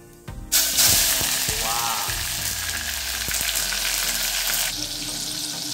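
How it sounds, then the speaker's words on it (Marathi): Cumin and mustard seeds hit hot oil in a pan for a tempering, bursting into a loud, close, continuous sizzle with crackling pops after a brief clatter. "मस्त तडक्याचं म्युझिक चालू आहे"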